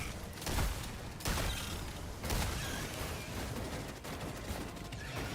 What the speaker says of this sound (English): Heavy machine gun going ham.